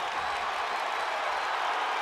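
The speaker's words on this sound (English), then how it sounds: "This crowd is feeling it now" Crowd in a college men's wrestling arena during a Nebraska versus Ohio State dual meet, a steady broad roar of cheering and clapping that sustains evenly throughout.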